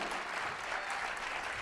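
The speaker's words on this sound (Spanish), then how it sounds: "Dele palmas al Señor." Brief burst of congregation applause at a church vigil, dense steady clapping from a crowd throughout, fairly faint and distant, with no voice over it.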